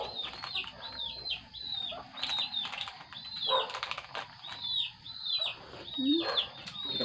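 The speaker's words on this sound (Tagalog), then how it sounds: "Ikam na mga manok" Chickens cluck and squawk repeatedly at close range, with occasional wing flaps and soft background rustling.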